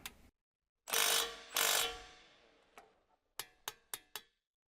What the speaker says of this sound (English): Tighten the bearing bolts with a 13 mm 12-point socket, short extension and torque wrench.